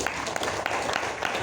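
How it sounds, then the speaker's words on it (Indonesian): An indoor audience claps steadily for a short moment, dense applause without any voices on top. "tepuk tangan dong."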